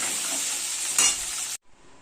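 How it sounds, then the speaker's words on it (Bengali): Small potato pieces fry in hot oil for a Bengali paneer potato curry, a loud steady sizzle with a brief stirring swell midway before cutting off abruptly near the end. "এই আলুগুলোকেও এখন আমি একটু লাল করে ভেজে তুলে নেব।"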